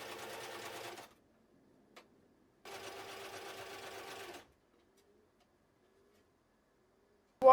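A sewing machine stitches a ruffle onto the bottom edge of a dress, running in two bursts of about one and two seconds with quiet gaps between, close and fairly soft, with no talking.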